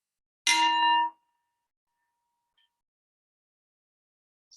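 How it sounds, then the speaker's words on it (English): A single mindfulness meditation bell is struck once, ringing a clear metallic tone that fades quickly into near silence. "with the sound of the bell"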